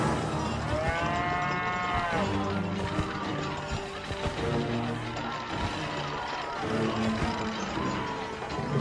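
Cow minions in a South Park video game moo loudly in several drawn-out, overlapping lowing calls over busy game noise and occasional crashes.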